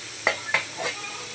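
Okra frying in a pan in a home kitchen gives off a soft, steady sizzle, broken by three short bursts of hissing as the food is stirred.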